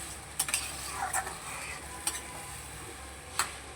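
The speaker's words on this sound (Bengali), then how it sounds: "আরও একটু জল দিয়ে দিলাম দিয়ে আবারও ভালো করে নেড়ে নেবো" A spoon scrapes and stirs through a vegetable curry with bitter gourd in a pan after water has been added, giving a few sharp clacks against the pan over a soft, steady sizzle, close and moderately quiet with no talking.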